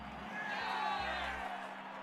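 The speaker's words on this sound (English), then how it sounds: "Why are you cheering that?" Crowd cheering in an F1 Manager 2022 race at an Aston Martin event, a swelling roar of whoops and shouts lasting about a second and a half, faint and distant under low background hum.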